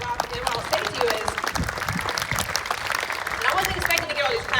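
An audience claps steadily as a broad wash of applause, continuous and moderately loud, with a voice speaking over it.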